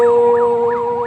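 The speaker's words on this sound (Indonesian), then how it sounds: "Ambulans." An ambulance siren on a badly damaged provincial road in Simalungun wails loudly and close, its pitch sweeping up and down in a steady, repeating cycle.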